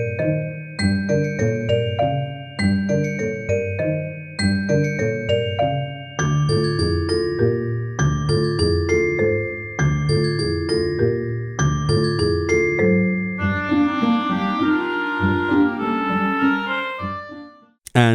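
Orchestrion roll music from Final Fantasy XIV, a bright melodic tune of chiming, bell-like notes in a steady repeating rhythm, clear and alone with no voices.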